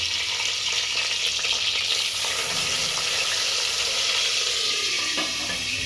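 Garlic frying in hot oil for a tadka for stuffed brinjal curry gives a steady, close, loud sizzle that runs unbroken throughout, with faint stirring and a hint of running water.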